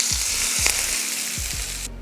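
Hot oil tempering of mustard seeds, urad dal, dried red chilli and curry leaves poured into chutney sizzles loudly and continuously, with a few crackling pops and soft scraping knocks.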